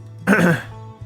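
A single close, rough cough or throat clear, loud and abrupt, lasting under half a second against a low steady hum.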